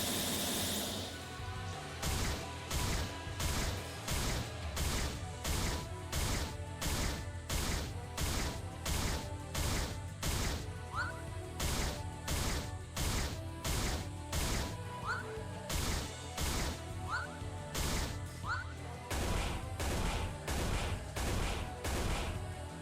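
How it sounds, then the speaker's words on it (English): A creeper's explosion attack in the video game Super Minecraft Kid: a rapid, regular series of loud, sharp blasts, roughly two per second, repeating over a steady rhythmic backing for about twenty seconds. "Alright, now here's his explosion attack."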